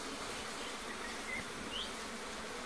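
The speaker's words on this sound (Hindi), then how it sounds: "बस जैसे मधुमक्खियाँ छत्ता छोड़ेगी" Asian honey bees (Apis cerana indica) at a smoked hive during colony setup, a steady, soft, continuous buzzing hum with no voices.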